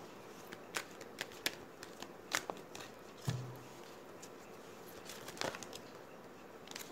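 Tarot cards are shuffled quietly, giving soft, scattered riffles and flicks with a brief thump midway over a faint hiss of room noise.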